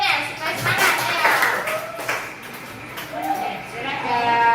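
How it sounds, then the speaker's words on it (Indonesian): Children in an Indonesian primary school classroom clap for a classmate's group before its presentation, close and steady, with young voices calling out over the clapping. "kasih tepuk tangan dulu buat temannya supaya semangat ya"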